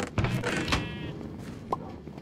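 A Minecraft sheep lets out a wavering bleat early on, followed by quieter game clatter and a short blip near the end, all fairly soft.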